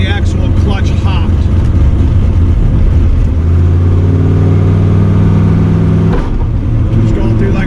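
A car is driven gently through heat cycles to bed in a new clutch, its engine a loud, steady low drone that settles into an even hum as it eases along, with a voice talking over it.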